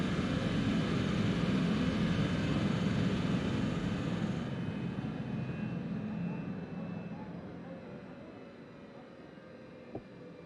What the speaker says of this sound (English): Engines off.